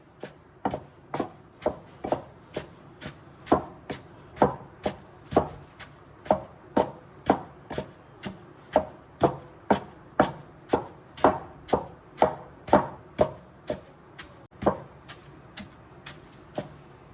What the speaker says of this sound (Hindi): इसको अच्छे से कूट लेंगे।